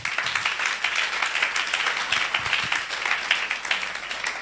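A church congregation at a Tuesday worship service gives loud, sustained applause. Dense clapping fills the room evenly, with a few voices audible underneath.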